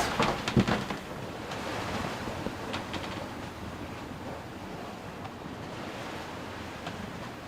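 Steady roar of surf with wind noise heard from a sailboat, waves washing and breaking against rocks continuously at moderate distance, with a few sharper splashes early on.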